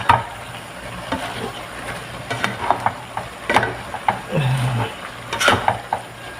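Chinese cabbage and birthday leftovers stirred in a frying pan, with intermittent clinks and scrapes of a utensil against the pan over a soft sizzle, irregular and close, with no talking.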